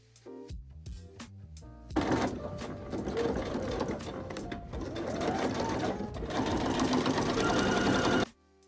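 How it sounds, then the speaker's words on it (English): A sewing machine stitches the shoulder seams of a patchwork denim trench coat, running in a steady, close mechanical whir for several seconds after a few soft taps, then stopping abruptly. "Sew the front to the back at the shoulder seams."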